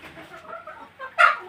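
Sonali chickens on a farm give soft, scattered clucks close by, then one louder, sharper squawk near the end, with a quiet barnyard background.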